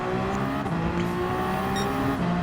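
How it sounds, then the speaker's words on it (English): A race car in a racing video game powers hard out of turn 6 in second gear, its engine holding a loud, steady, buzzing drone throughout with no talking. "And then we turn 6, second gear, fully accelerate right on out."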